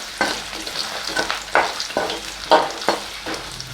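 Potatoes sautéing in hot oil for a potato and capsicum gravy, a crackling sizzle broken by several sharp scraping stirs at an irregular rhythm, close and fairly loud with no talk.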